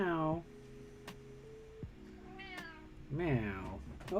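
A cat meows several times, drawn-out calls near the start and again toward the end, with a softer chirp in between, close by, while a steady tone sounds underneath for part of the time.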